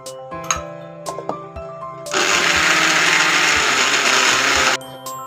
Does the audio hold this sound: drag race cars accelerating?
no